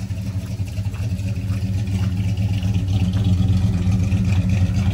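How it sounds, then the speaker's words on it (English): A car engine runs steadily during a radiator and engine flush, a loud, continuous low drone that builds slightly in level toward the end as the motor is revved, with no talking. "Daddy's gonna rev the motor"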